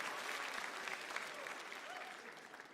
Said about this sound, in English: Don't clap. Stop it. Stop that right now.